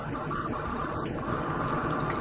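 Soy sauce is poured into a cooking pot, a soft steady trickling and splashing of liquid that continues evenly for a couple of seconds, close and moderately quiet.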